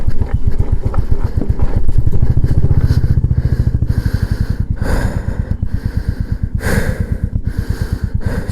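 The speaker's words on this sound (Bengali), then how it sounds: "আবার চাকা স্লিপ খাচ্ছে" A motorcycle on an offroad mountain track in South Sikkim labors as its wheel slips, its engine a loud, close, rapid chugging throb that swells and eases with the throttle throughout.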